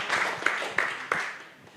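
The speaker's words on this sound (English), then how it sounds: "Let's give them a round of applause." Audience applause after a team presentation at an AI lab event, a broad wash of clapping with a few sharper accents, moderately loud and gradually fading over about two seconds.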